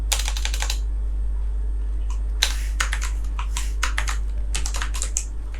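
Code typed on a computer keyboard, bursts of rapid, crisp close-up key clicks separated by short pauses, over a steady low electrical hum.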